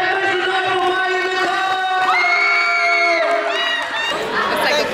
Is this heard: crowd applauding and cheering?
yes